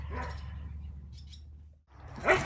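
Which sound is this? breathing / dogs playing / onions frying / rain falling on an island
dogs playing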